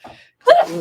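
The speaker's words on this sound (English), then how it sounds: "the poor girl sneezes every single time we're in the studio" A single sharp sneeze from a girl in a radio studio bursts out after a brief, faint intake of breath, close and loud, then trails off.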